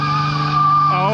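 A Nissan Skyline R33 GTR V Spec engine held on two-step launch control gives a loud, steady, high-revving buzzing drone that lasts about a second, with a voice speaking over it.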